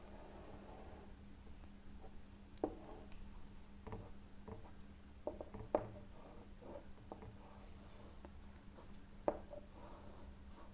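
Pen or marker scratching and tapping as a diagram of a mild steel plate is drawn by hand, with soft irregular strokes and occasional sharper taps over a quiet low hum.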